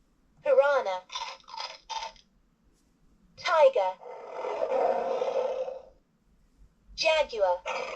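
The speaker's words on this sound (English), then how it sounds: "tiger" A LeapFrog 100 Animals toy book plays a tiger roar, a gravelly growling burst lasting about two seconds, with the toy's electronic voice speaking just before and after it.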